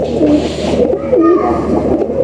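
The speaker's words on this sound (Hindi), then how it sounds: "बहुत अच्छे कबूतर हैं ये सारे उस्ताद आज़ाद भट्ट के पास" Pigeons kept by a fancier coo steadily and close by, a continuous throaty murmur filling the whole stretch with no other sounds.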